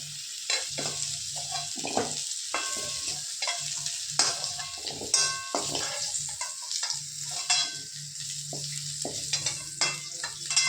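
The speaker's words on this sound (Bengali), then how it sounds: "এই যে এঁচড় ভাজা হয়ে গেছে" Jackfruit and potato pieces frying in hot oil in a pan give a continuous close sizzle, broken by repeated scraping and stirring strokes of a spatula, with no talking.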